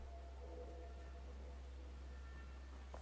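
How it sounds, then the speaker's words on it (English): Steady rain falls in the survival building game Enshrouded, a constant faint hiss throughout with a low hum underneath and a few soft tonal game sounds. "It's raining."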